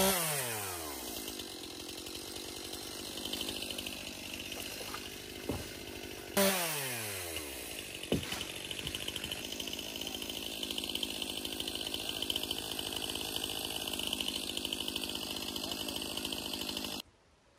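A chainsaw cuts wood while clearing undergrowth on a large homestead, a steady buzzing whine broken by a couple of throttle drops and revs, moderately distant.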